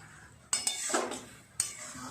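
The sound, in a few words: stirring taro greens with prawns in a pan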